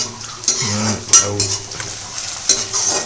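Onions, peas and tomatoes being stirred in a pan at close range, with a scraping spoon, scattered metallic clinks of utensils against cookware and a faint sizzle underneath, no talking.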